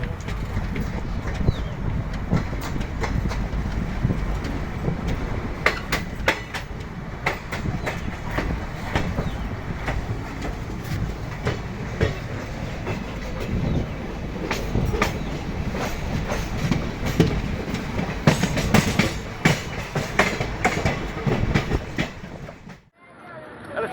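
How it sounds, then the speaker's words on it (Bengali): Train coaches rolling along the rails toward Purulia, with a steady, loud rumble and rhythmic clickety-clack of wheels on the track continuing throughout before cutting off at the end. "বাকি এগারোটি কামরা এগিয়ে চলে পুরুলিয়া হয়ে চক্রধরপুরের উদ্দেশ্যে"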